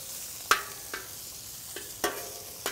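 Shrimp and steak frying with garlic in a pan over a fire pit, giving a steady sizzle with a few sharp scraping stirs at irregular intervals.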